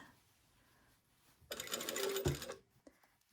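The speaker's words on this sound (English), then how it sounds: "Now I'm just going to go all the way around the top edge of the skirt" Sewing machine basting a skirt lining along the top edge, a brief mid-loud run of stitching lasting about a second before stopping, followed by a few small handling clicks.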